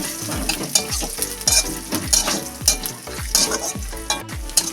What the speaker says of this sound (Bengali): বাদামটাকে একটু তেলেতে ভেজে নিবে ভালো করে